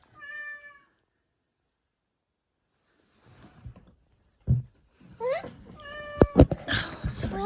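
A robotic toy cat gives a short electronic meow, then after a pause a cluster of louder, warbling meows with a few clicks and knocks. A person talks faintly in between.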